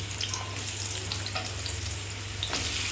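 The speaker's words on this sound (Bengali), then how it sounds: "এবার আমি পটল ভাজা করে নিচ্ছি" Pointed gourd (potol) pieces rubbed with salt and turmeric frying in a pan in a Bengali home kitchen: a continuous close sizzle with faint crackles and a low steady hum underneath, no voices.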